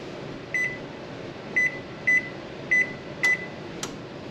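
An oven control panel beeping while the temperature is set, five short clear electronic beeps at uneven intervals followed by two brief clicks, close and alone over a low room hum.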